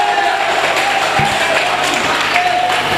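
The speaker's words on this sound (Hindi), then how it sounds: "तो पुरजोर तालियां होनी चाहिए।" Dense, sustained applause from a crowd at a mushaira, welcoming a poet from Meerut, a continuous wash of clapping with a faint cheer, no break for the whole stretch.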